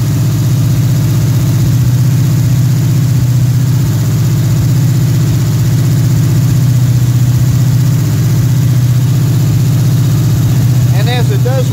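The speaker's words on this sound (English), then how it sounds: "And as it does warm up, then you can go ahead and kick the idle down." A Pontiac engine with a Quadrajet carburetor idling steadily as it warms up, a loud close low rumble held throughout with a brief light squeak near the end.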